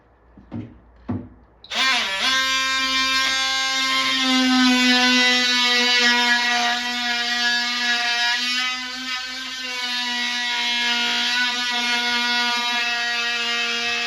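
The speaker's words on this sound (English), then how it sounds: "Drill some holes in them so they don't split." A power drill bores holes in wood pieces, starting after a few short taps and then whining at a steady high pitch that dips slightly under load, loud and close for over ten seconds.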